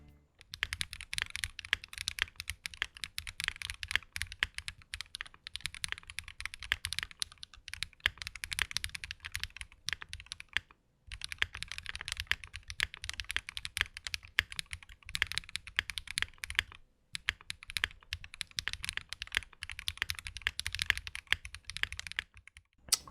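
Typing on a Qwertykeys QK65 mechanical keyboard with its foams removed: a dense, steady stream of crisp keystrokes, close and fairly quiet, with two short pauses partway through.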